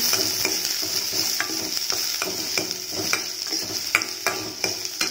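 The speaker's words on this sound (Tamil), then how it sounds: "இப்போ வந்து வெங்காயம் வந்து நல்லா வதங்கட்டும்." Onion, curry leaves and chilli sautéing in a pan, a steady bright sizzle with repeated spoon scrapes and taps against the pan at close range.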